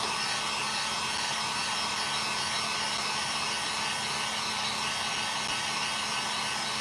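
A hair dryer blows steadily at close range over a handmade vintage Santa craft piece, a continuous breathy whoosh running unbroken for the whole stretch with no talking.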